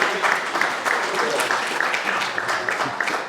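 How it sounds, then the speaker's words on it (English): An audience bursts into sustained applause after a recited poem at a community gathering, with many hands clapping in a dense, slightly uneven patter that tapers near the end. "give all yourselves a rousing mighty cheer"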